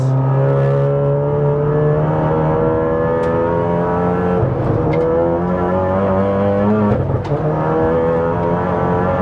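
A Volkswagen MK7 Golf R track car laps Castle Combe on a wet track, its engine droning loud and steady in-cabin with rising and falling harmonic pitch through gear changes and braking, a continuous near roar with no talk.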